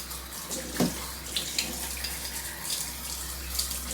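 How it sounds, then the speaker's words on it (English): Tap water runs steadily, rinsing caustic paint stripper off a Dinky die-cast toy lorry at a sink, a constant splashing hiss with a low hum beneath and brief louder splashes. "rinsing it off now and diluting it a lot"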